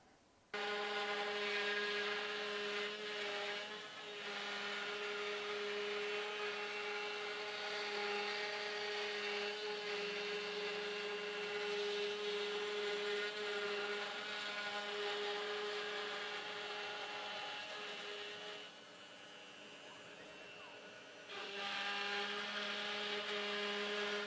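A CNC router drives a down-cut spiral bit through wood, cutting pilot holes for a footrest jig. It gives a steady, loud, high-pitched whine with strong tonal bands that holds for the whole stretch and dips briefly near the end.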